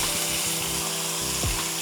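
Steady, close sizzling of American Wagyu beef shank frying in tallow fills the clip, a continuous crackling hiss with small pops and no voices.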